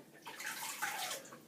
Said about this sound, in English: put some water on the blade.